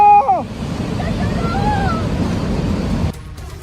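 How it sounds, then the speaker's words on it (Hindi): Torrent of flash-flood water rushing after a cloudburst in Tangling, Kinnaur, Himachal, a loud steady roar filling the whole span, with brief whistle-like tones and a voice near the start before it cuts abruptly near the end. "बादल फटा तो 100 किलोमीटर प्रति घंटे की रफ्तार से हजारों क्यूसेक लीटर पानी के साथ सैलाब ने सीधे अटैक किया"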